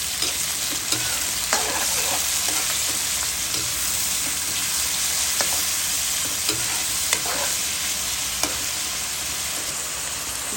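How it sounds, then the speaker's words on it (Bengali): Tomato and salt frying in hot oil, a steady loud sizzle running throughout with scattered scraping stirs and soft knocks of a spoon against the pan, close up and with no voices. "লবণ দিয়ে দিলাম, টমেটোটাও দিয়ে দিলাম। একসাথে ভাজা ভাজা হতে থাক।"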